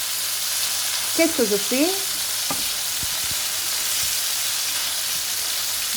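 Ingredients sear in a hot pan for rice, a steady broad sizzle running throughout with a brief stir and a few light clicks; a voice briefly speaks over it.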